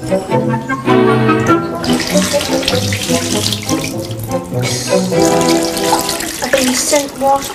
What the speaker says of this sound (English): You need to run 5 inches of water into the bath